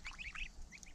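A domestic goose gives a quick series of short, nasal honking calls at close range, several rapid notes within a second.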